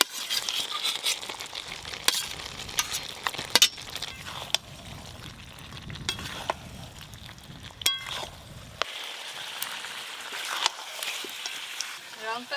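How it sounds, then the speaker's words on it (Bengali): Fried potatoes and mutton for a mutton curry sautéed together in hot oil in a pan, giving a soft continuous sizzle with scattered scraping and stirring sounds, and a person talking over it. "এবার আমি ওপর দিয়ে ভেজে রাখা আলুগুলো দিয়ে আর একটু ভালো করে আলু আর মাংস কষে নেব।"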